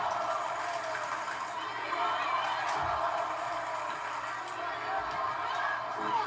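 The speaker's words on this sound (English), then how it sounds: "Loud crowd here in Savannah." A wrestling arena crowd in Savannah at a SmackDown event keeps up a steady, distant roar with scattered cheers and whoops, mixed under a person talking throughout.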